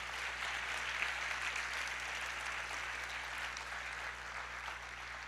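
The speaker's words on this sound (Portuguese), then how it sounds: "Vamos aplaudir ao Senhor, se expresse." A church congregation applauds in worship, a continuous, even patter of many hands over a low steady hum, sustained without pause for about five seconds.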